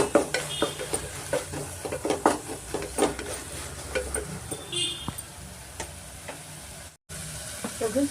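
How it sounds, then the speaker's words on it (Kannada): Soft cooked tomatoes stirred in a pan for a Nati-style tomato bath, with spoon scrapes and soft clinks against the metal and a low sizzle underneath, in a steady uneven rhythm close by, plus a brief silent gap near the end. "ಟೊಮೆಟೊ ಎಲ್ಲ ಸಾಫ್ಟ್ ಆಗಿದೆ ನೋಡಿ. ಮಿಕ್ಸ್ ಮಾಡಿಕೊಟ್ಬಿಡೋಣ ನೀಟಾಗಿ"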